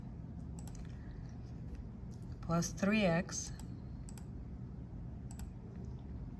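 An algebra equation is typed on a computer keyboard, with light, scattered key clicks spread sparsely through the clip and someone speaking briefly in the middle.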